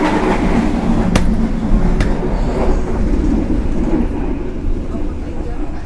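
Inside a carriage of the KA Sribilah train, a continuous loud rumble of wheels on rails fills the air, with a couple of sharp clanks, as if crossing a carriage joint.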